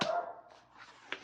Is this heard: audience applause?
no